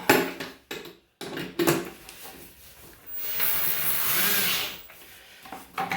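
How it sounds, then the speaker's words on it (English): Scraping and clicking of tool handling, then a cordless drill whirs up and runs steadily for under two seconds before winding down, while removing a bathtub handle. "We'll hook up our cordless drill."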